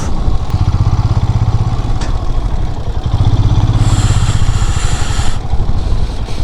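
A motorcycle engine idling in the parking area at Mirik Lake, a steady close throbbing putter with a higher whine joining partway through.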